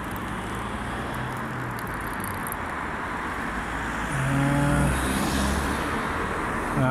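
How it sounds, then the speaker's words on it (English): Road traffic passes steadily by as a continuous broadband roar, with a closer car swelling louder near the end before easing off. "Just listening to the traffic"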